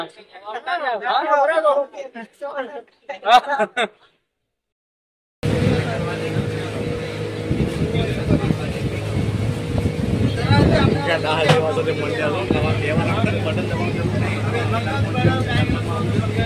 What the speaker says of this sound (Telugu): బోటు ఒడ్డు నుంచి సముద్రం మీదకి కొంచెం ముందు పోయింది.